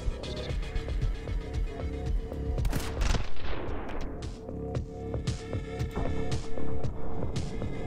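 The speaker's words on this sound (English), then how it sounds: "They're still shooting at me." Rapid gunfire from the side-scrolling action game My Friend Pedro, dense overlapping bursts layered over a steady music soundtrack, loud and continuous with a heavier barrage near the middle.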